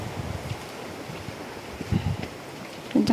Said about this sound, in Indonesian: Wah, anginnya kenceng